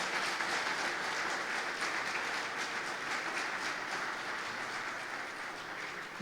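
Loud, sustained applause from a church congregation fills the space evenly for several seconds, a dense continuous clapping with no voices above it.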